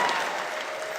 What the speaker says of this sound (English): Can y'all give Charlie Kirk a round of applause?